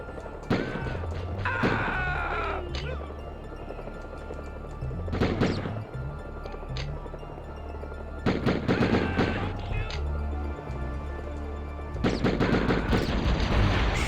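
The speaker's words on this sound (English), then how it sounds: "Shooting wildly." Bursts of gunfire from the video game Die Hard Trilogy, several separate volleys of rapid shots spread across the stretch, loud and close, with game sound running underneath.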